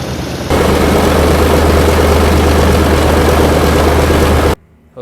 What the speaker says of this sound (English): Next you'll see us running the engines to check for leaks